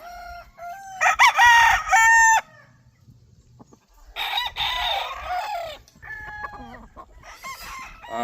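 A rooster crows loudly nearby in two long calls while hens cluck between them, separated by short quiet gaps, in a backyard flock of breeding hens.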